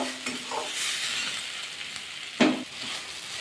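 A spoon scrapes through a carrot mixture cooking in a pan over a continuous sizzle. One sharper scrape-and-clink stands out partway through, and no one speaks.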